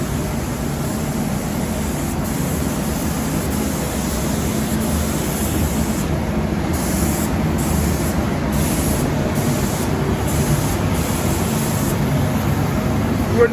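Steady, close hiss of a spray gun laying a heavy wet coat of paint onto aftermarket car wheels for a BMW 1 Series in a workshop, continuous and loud throughout with no pauses.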